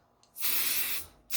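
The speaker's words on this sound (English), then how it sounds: "I'm going to spray it" Two short bursts of temporary embroidery adhesive spray hiss out of a can close by, the first longer, the second starting just as the clip ends.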